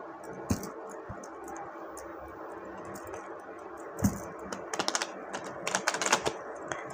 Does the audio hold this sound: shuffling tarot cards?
yes